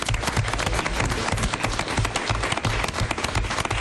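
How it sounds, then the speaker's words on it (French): A TV studio audience applauds a guest arriving on a live French variety show, dense sustained clapping filling the room at steady volume with no talk over it. "on peut applaudir Jimmy"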